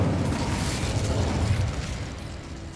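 Incendio fire spell cast in Hogwarts Legacy, a loud whooshing burst of flame that roars and then slowly tails off, with no talk over it.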